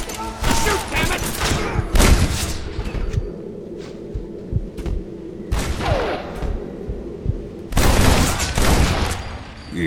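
Bursts of gunfire ring out in the video game Red Dead Redemption, rapid volleys and single shots at close range, with someone shouting over them.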